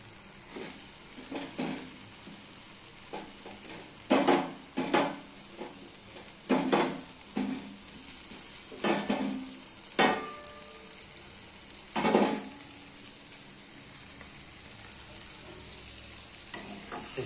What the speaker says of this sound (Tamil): இதை உடையாமல் நம்ம கலக்கணும். கொஞ்ச நேரம் கருவாடு வேகட்டும்.